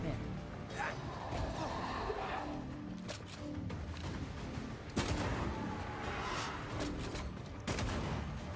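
Gunshots in Banishers: Ghosts of New Eden: a few sharp, loud reports spaced several seconds apart over a busy background, with voices talking in between.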